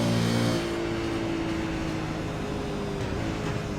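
On-board V8 Supercar engine in the Bathurst 1000 race, a loud steady engine drone with a brief lift early on, then a sustained tone while coasting, with no talk.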